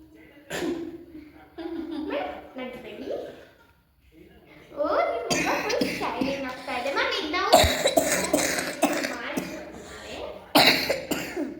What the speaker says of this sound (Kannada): ಕೆಮ್ಮು ಕ್ಲಿಯರಾಗಿ ಇನ್ನೂ ವಾಸಿ ಆಗಿಲ್ಲ